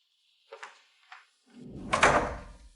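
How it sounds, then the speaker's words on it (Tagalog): A door is shut in a drama: two light clicks of handling come first, then a heavier thump and rattle as it closes, fairly near. "Isara mo ang pinto."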